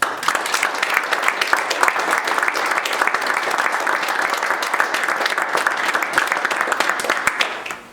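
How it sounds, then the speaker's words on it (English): A room full of people applauds steadily and loudly, a dense unbroken clatter that fades out at the very end. "Please join me in a round of applause for Harvey Fraser"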